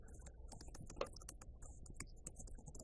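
Quiet computer keyboard typing, a quick run of light, irregular key clicks with no talking, as text is entered into a box in a Microsoft Word document.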